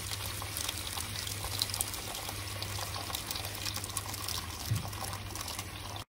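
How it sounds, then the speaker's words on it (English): Water runs steadily into a pot in a home kitchen while making Iraqi kubba hamuth soup, a continuous soft splashing pour with no talking. "add some water."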